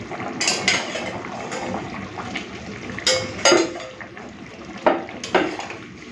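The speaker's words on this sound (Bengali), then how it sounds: "চলুন এখন দিয়ে দেবো ভেজে রাখা কই মাছগুলো।" Pieces of fried koi fish are dropped into a simmering potato and fish curry flavoured with cumin paste, giving a few soft splashes and clinks of a pot over a bubbling liquid background, with no one talking.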